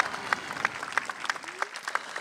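Applause at a 2019 Interlachen High School graduation ceremony for the graduating students, a steady spread of many hands clapping from an indoor crowd, with irregular louder claps standing out for a couple of seconds.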